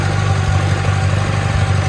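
A 1954 Farmall Super C tractor engine runs steadily in first gear with throttle applied, a low, even, thrumming chug heard close and alone.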